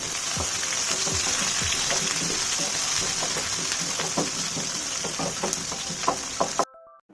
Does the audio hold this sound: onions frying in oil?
yes